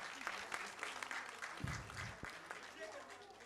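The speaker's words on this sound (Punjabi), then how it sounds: "ਐਸ ਅਸ਼ੋਕ ਪੌਰਾ ਸਾਹਿਬ ਲਈ ਢੇਰ ਸਾਰੀਆਂ ਤਾਲੀਆਂ ਪਲੀਜ਼।" Applause from a conference audience at an international Punjabi conference in Lahore, a moderate wash of clapping that holds steady across the few seconds, with a voice speaking faintly over it.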